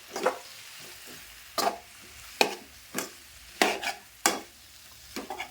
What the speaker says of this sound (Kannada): ನೋಡಿ ಖಾರ ಉಪ್ಪು ಜೊತೆ ನುಗ್ಗೆಕಾಯಿ ಈ ರೀತಿ ಒಂದು ಸ್ವಲ್ಪ ಫ್ರೈ ಮಾಡ್ಕೋಬೇಕು